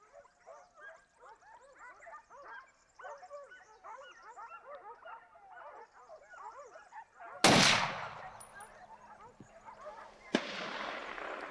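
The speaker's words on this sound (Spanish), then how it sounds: "Nuevo impacto en el cochino que le hace apretar aún más en la carrera." Birdsong chirps through quiet woodland in Portugal's Alentejo, then two sharp, loud gunshots at a running wild boar crack out several seconds apart, the first ringing with a low rumble.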